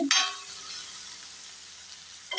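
Fish frying in a pan, a steady broadband sizzle that holds throughout, with a brief sharper scrape or clatter near the start and end as the pieces are turned; close and fairly loud, no talking.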